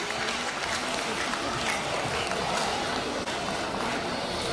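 Dense, steady clapping from a large audience at a Diwali morning music concert, loud and continuous throughout with a murmur of crowd noise mixed in.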